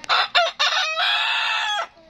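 A rooster on a small farm in Klaten crows loudly and close, a few short rising notes followed by a long drawn-out call, with no voices over it.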